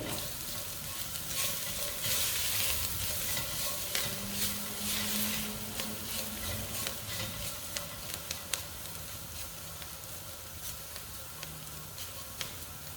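Food sizzles and fries steadily in a pan while a spoon stirs it, with crackling hiss and occasional scraping clicks throughout, no voices.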